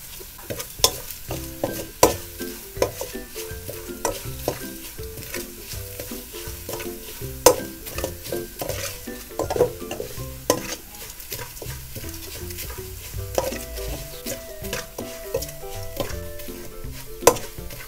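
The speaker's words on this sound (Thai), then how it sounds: "โบก็จะผัดพริกแกงคั่วพริกแกงในหม้อก่อนนะคะ" Thai chili curry paste stir-fried in a pot over a gas flame, with a steady sizzle and repeated scraping and clacking of a utensil against the pot, close and continuous without talk.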